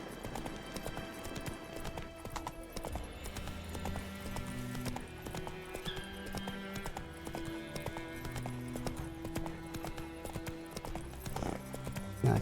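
Roach, a horse in The Witcher 3, gallops with a steady rapid clip-clop of hooves, loud and close, over game music that runs throughout.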